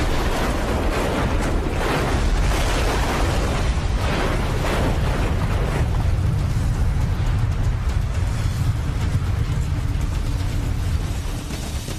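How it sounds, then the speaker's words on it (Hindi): Plane crash-landing on a road ending in an explosion, a loud sustained roar and rumble of blast and fire filling the whole stretch, with heavy low-end rumble continuing alone without talk. "तो कभी सड़क पर गलत लैंडिंग से हुआ धमाका"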